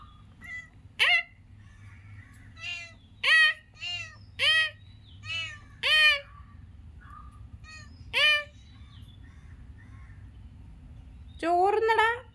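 A domestic cat meows repeatedly, about eight or nine separate calls in an irregular rhythm, fairly close, over a low steady hum, ending with a longer drawn-out meow.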